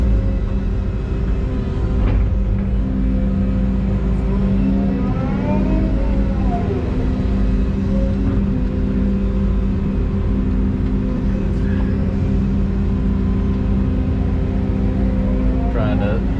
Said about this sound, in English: I'll take the skid steer and put in my lifts